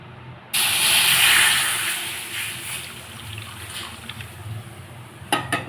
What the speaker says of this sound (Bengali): এবার ওই কড়াইতে দিয়ে দিলাম দুধ।